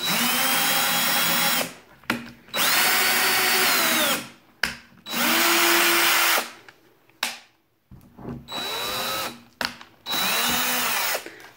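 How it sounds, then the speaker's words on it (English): A power drill drills holes in wood, whirring in repeated bursts of a couple of seconds each, spinning up and winding down between holes, loud and close, with no talking. "So once you've made that, you're going to drill holes."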